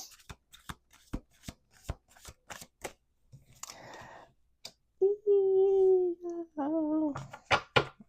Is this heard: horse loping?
no